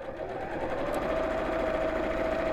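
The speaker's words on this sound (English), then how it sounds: "you've got such a thickness of fabric that you're sewing through" A sewing machine stitches through thick layers of fabric for a raggy patchwork cushion cover, a steady continuous whirring drone with no talking.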